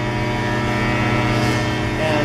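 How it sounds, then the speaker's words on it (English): A fuel truck's engine drones steadily and low without a break, the heavy motor idling close by with no change in pitch. "I think that's coming from a fuel truck"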